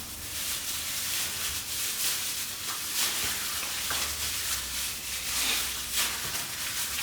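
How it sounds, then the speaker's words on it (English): Chicken pieces being mixed with sesame oil and olive oil for a Cantonese tomato chicken stew, a continuous wet sizzle-like rustle and shuffling of stirring close by, steady and moderately loud with no talk. "And let's give this a good mix."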